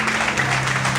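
A church congregation applauds during a worship service, a brief, dense wash of many hands clapping at steady volume.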